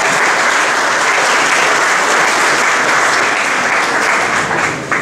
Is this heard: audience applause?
yes